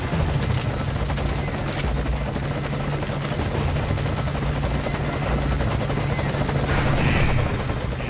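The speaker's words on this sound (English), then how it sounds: "I'll have the chopper wait in the air." Helicopter hovering in Metal Gear Solid V: Ground Zeroes, a loud continuous rotor drone with steady low thumping and engine whine, holding close and constant throughout with no voices.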